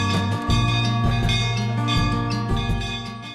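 A sensor-fitted bell at a Shiva temple in Madhya Pradesh rings with repeated metallic strikes, loud and resonant, each stroke layering over the sustained hum of the previous ones.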